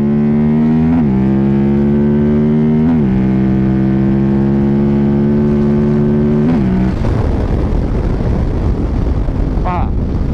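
KTM 1190 Adventure motorcycle, reprogrammed, accelerating hard on a German road toward about 200 km/h, its engine note climbing through gear changes in loud rising sweeps, then giving way to heavy wind roar.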